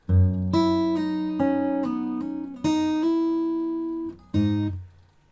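Acoustic guitar playing a fingerstyle phrase from a song arrangement: about half a dozen clear plucked notes and chords, each ringing out before the next, close and unaccompanied.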